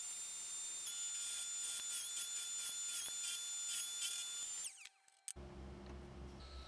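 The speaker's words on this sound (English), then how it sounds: "Next, I'm going to drill the hole for where the funnel is going to go." A high-pitched power drill whines steadily for several seconds boring a hole in wood, then cuts out abruptly, followed by a short lower rumble.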